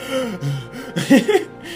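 A voice imitates panting breath, a few quick, voiced huffs and gasping exhalations in an uneven rhythm, close and fairly loud.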